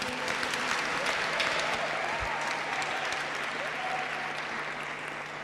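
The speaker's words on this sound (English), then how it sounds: "We can give that another round of applause." Sustained, dense applause from a large crowd at a business school graduation ceremony, steady and fairly loud throughout with faint voices mixed in.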